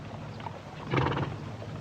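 A horse whinnies briefly in the middle of a classic Western film scene, a short rising neigh over a steady low background rumble.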